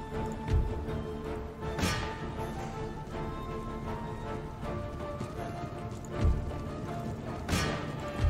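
Cavalry horses charge in an Empire: Total War battle, several heavy hoof thuds and whooshing impacts rising out of a steady din of distant combat.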